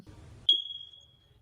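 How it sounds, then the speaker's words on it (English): A single high electronic chirp from a household fire detector, sharp at the start and ringing briefly before fading, following a moment of low murmuring voices. "Eric July's fire detector beep."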